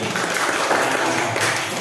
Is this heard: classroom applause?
yes